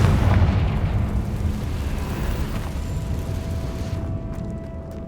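In the Hogwarts Legacy video game, a Confringo spell explosion lands as a heavy, deep boom at the start and then fades into a long rumbling rolloff over several seconds, loud and close with no voices.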